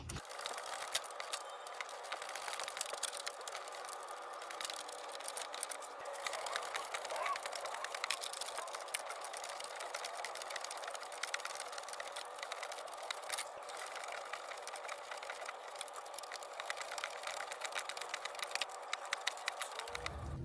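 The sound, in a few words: ratchet tightening sway bar bracket bolts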